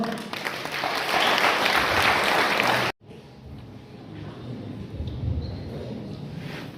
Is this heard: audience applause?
yes